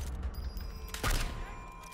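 A single sharp sniper rifle shot rings out in the video game Sniper Elite 4, standing out against a steady low game background.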